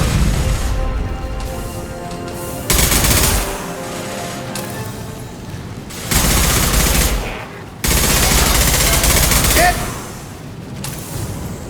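Gunfire in the Mass Effect 2 video game comes in loud bursts of rapid automatic fire with booming impacts, separated by quieter stretches of game sound.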